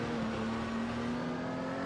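A GT3 race car engine at the Hungaroring in the iRacing sim holds a steady, loud droning note at constant revs, with a smooth, unbroken tone throughout.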